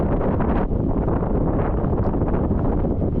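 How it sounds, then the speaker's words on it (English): Strong wind buffets the microphone outdoors at a large warehouse loading area, a loud, continuous low roar with gusty surges and no talking. "It's super windy out here."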